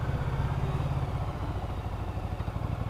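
A motorcycle engine pulls at full throttle up to its 7,000 RPM redline, a steady, close droning roar with a rapid pulsing low beat throughout, heard alone without any talk.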